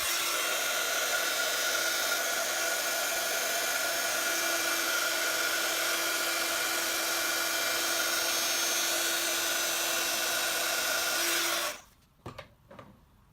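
An embossing heat tool blows with a steady, loud, whirring roar for about eleven seconds over a stamped card being heat embossed in white, then cuts off, leaving a few faint handling clicks.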